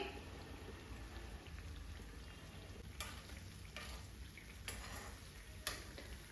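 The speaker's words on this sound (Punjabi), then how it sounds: "ਦੇਖੋ ਇਹ ਬਹੁਤ ਹੀ ਜ਼ਿਆਦਾ ਵਧੀਆ ਤਰੀਕੇ ਦੇ ਨਾਲ ਫਰਾਈ ਹੋ ਰਹੀ ਹੈ" Bread slices for a sweet bread dessert fry in a pan with a constant soft sizzle and crackle, broken by a few brief sharper pops and spatters.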